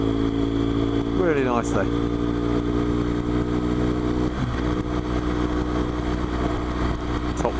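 A BMW R1200GS motorcycle riding along a country road in the Yorkshire Dales, its engine droning steadily at speed with a brief rev through a gear change, wind noise throughout and a rider speaking over it.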